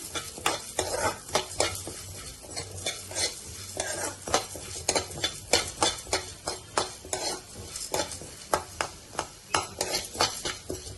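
Coriander seeds fry in a pan while a spoon stirs them repeatedly, giving a steady sizzle under brisk, irregular metallic scraping and clinks, close up with no talking.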